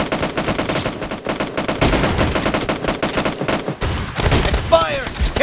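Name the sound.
shotgun gunfire in a video game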